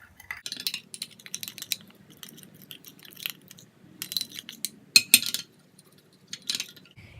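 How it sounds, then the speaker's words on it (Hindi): Castor oil, vitamin E oil and henna stirred together in a small bowl, giving scattered clinks and scraping taps of a utensil against the container, irregular and close, with no talking. "इन सब चीज़ों को मिक्स करेंगे।"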